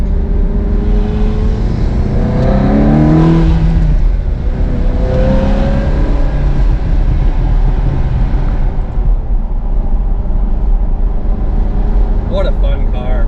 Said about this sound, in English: just get it out and listen to that V8